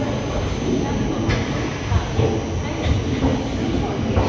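A passenger express train rolls through a station platform at Prayagraj Junction, giving a dense, continuous rumble with faint rhythmic wheel clatter heard from on board, with talk over it.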